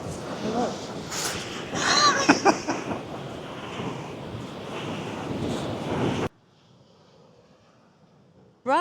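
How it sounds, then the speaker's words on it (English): Big rolling Pacific Ocean waves wash onto a beach in a broad surf roar with wind buffeting the microphone, then the sound drops to near silence. "Today there's some really nice big rolling waves"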